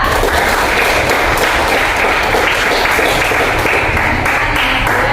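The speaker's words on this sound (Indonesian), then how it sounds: "aplaus sekali lagi, aplaus buat kelompok 3" A room full of classmates applauds group 3 after their presentation, a dense, sustained burst of clapping at full volume that holds evenly from start to finish with no pause.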